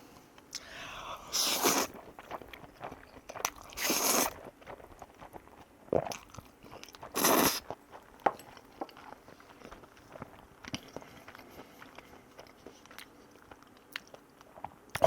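Takoyaki topped with wasabi mayo is eaten up close: soft, quiet chewing is broken by a few sharper crunchy bites spread over roughly fifteen seconds.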